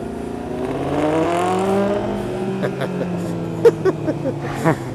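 A Suzuki SRAD or Kawasaki ZX-7R motorcycle engine runs after a tow-rope start, rising in pitch as it revs near and loud, then settling to a rough idle with a few sharp knocks and blips.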